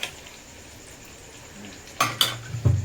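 A metal spatula clinks and scrapes against a pan as hot oil is spooned over frying food, with a few sharp taps near the end above a low, steady sizzle.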